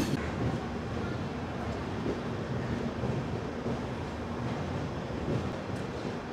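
The Falaknuma Express rolls into Kharagpur station with a steady, broad low rumble and rail noise mixed with wind buffeting, continuous and fairly distant.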